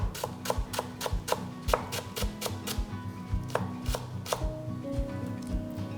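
A knife chops green onion on a cutting board, scored lengthwise and then sliced for dumpling filling. Crisp, close, rapid strikes fall in quick uneven bursts, and no one speaks.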